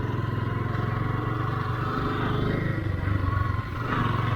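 A Yamaha R15 Version 1 motorcycle under restoration runs steadily while being ridden, its engine producing a continuous, close, loud pulsing drone with road and wind noise and a brief dip in level near the end.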